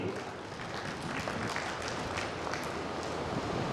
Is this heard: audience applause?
yes